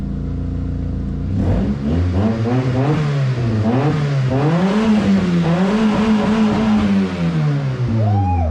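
An old beater car's engine revving loud and close, climbing and dropping repeatedly in a series of throttle blips over a steady idle, with no talk over it.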